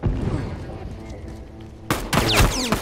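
A bomb goes off in The Last of Us multiplayer. A low, murky in-game rumble builds, then a sudden loud, sharp burst of explosive cracks hits near the end.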